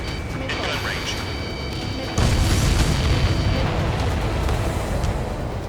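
Explosions from aircraft destroying tankers in the Ace Combat 7 video game, a sudden loud blast about two seconds in giving way to a sustained rumbling roar, with game radio chatter underneath.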